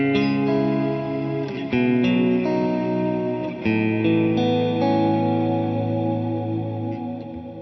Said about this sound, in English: With incorporating the effects inside the RV200, my guitar now sounds like this.